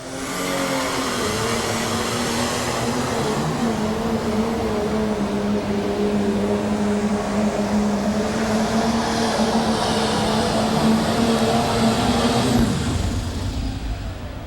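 A Pro Stock pulling tractor, Shotgun Red, roars at a 1993 NFMS tractor pull finals in Louisville, Kentucky, its engine a loud, sustained, droning howl that holds steady with a slight rise in pitch over the full run.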